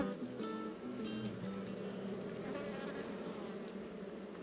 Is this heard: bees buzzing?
yes